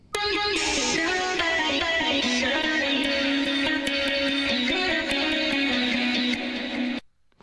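Sliced vocal chops sequenced through a dense, loud beat, rapid stuttering pitched fragments over steady bass and drums for about seven seconds before cutting off abruptly; no talking.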